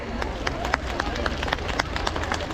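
Scattered applause from a crowd at an outdoor Christmas tree lighting ceremony on St. Nicholas Day in Ivano-Frankivsk, sparse claps under a murmuring crowd.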